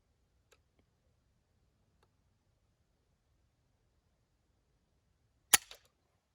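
A Geissele SSA trigger in an MPX breaks once with a sharp, crisp dry-fire click. A small rattle follows immediately, set against near silence with only faint ticks before it.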